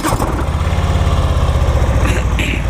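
A 2018 Harley-Davidson Low Rider motorcycle engine runs close and loud, a steady throbbing idle with no voices over it.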